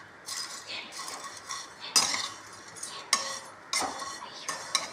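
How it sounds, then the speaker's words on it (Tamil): Semiya vermicelli is stirred and roasted in a pan, with a metal spoon scraping and knocking against the pan in irregular strokes and several sharper clanks, close and fairly quiet. "இப்போது இதை வறுத்து எடுத்துடலாம்"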